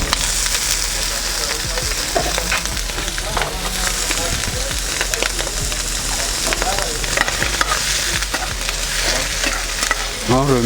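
Shallots and mushrooms fry in a hot pan while being stirred, giving a loud, continuous sizzle with scraping and stirring noises throughout.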